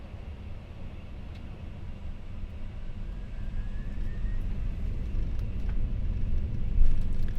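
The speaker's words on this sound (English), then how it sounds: "Takeoff thrust is set." Lufthansa Cargo MD-11 jet engines spool up toward takeoff thrust on the runway, a broad low roar heard from the cockpit that grows slowly louder and fuller with no voices.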